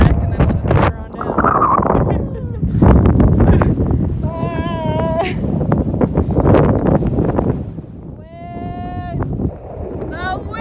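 Wind gusts rumble across the microphone on an outdoor hiking trail near Littlehorn Meadows, loud and buffeting, while people talk throughout and bleating animal calls rise in two short stretches.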